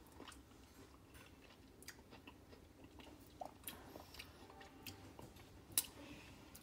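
Someone chews soft red kiwi fruit close up, quiet wet mouth sounds with small clicks and crunches over a low background hiss; no talking.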